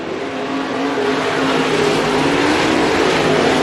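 Loud, continuous roar of race cars accelerating on a dirt track at Bakersfield Speedway, a broad steady rumble that builds slightly, heard at a distance without talk.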